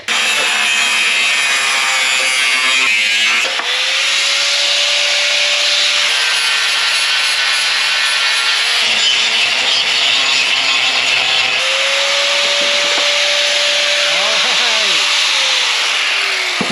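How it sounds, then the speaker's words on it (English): A power cutting tool slicing through the metal glove box area of a 1954 Chevy 3100 truck, a loud continuous grinding whine held close for the whole stretch, rising in pitch as the blade bites. "I'm going to cut that on this side first because then I'm not at risk of cutting the actual glove box"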